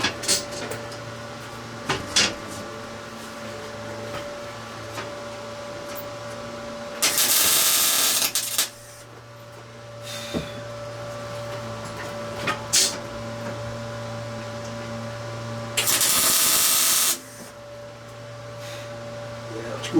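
Two tack welds go onto a snapped wagon grill for a steam locomotive, each a loud, harsh buzzing crackle of about a second and a half, separated by quiet workshop clatter and low hum.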